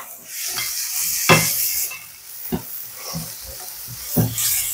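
Onions and ginger sautéing in a hot pan for ginataang langka: a continuous bright sizzle with several sharp spatula scrapes and clacks against the pan as the aromatics are stirred, close and fairly loud.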